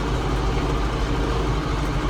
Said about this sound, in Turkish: şanzıman uğultusu başladı.